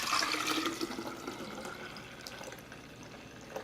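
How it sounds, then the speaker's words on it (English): Cantaloupe agua fresca is poured from a Pyrex glass pitcher with a poor spout, giving a steady close liquid stream that gradually eases and thins over a few seconds, with no talking. "So I'm just gonna pour this one just like this for you guys."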